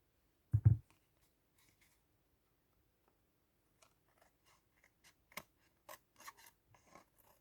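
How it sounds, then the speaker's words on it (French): Scissors trim the surplus paper from a Tim Holtz-style junk journal collage page. One loud thump comes early, followed by a long quiet pause, then a scattered run of soft, close snips and paper rustles. "Avec mes ciseaux."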